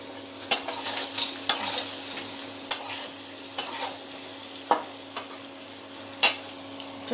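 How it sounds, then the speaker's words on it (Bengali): Vegetables frying in a pan, a continuous close sizzle broken by regular sharp clinks of a spatula stirring and scraping every second or so. "দেখো সবজিটা ভাজতে শুরু করেছে"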